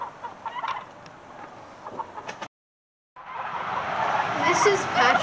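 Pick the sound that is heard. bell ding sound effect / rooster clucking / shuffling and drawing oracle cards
rooster clucking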